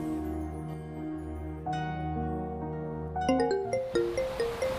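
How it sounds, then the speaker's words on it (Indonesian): A mobile phone rings with an incoming call, a melodic ringtone of stepped tones rising and repeating, loud and close with no talk, then a quicker pulsing run of notes toward the end. "HP Mas Tempe ono telepon"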